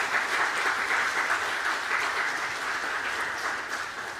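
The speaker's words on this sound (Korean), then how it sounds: "박수로 축복해 주시기 바랍니다" Congregation applause at a Sunday church service, a sustained, even wash of clapping from many hands that tapers slightly toward the end.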